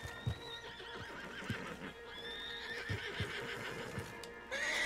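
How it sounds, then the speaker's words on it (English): A horse in the video game Red Dead Redemption 2 whinnies and snorts while its hooves clop in an uneven rhythm, with a brighter neigh cutting in near the end. "Marston, you're gonna tether him up to Javier's horse."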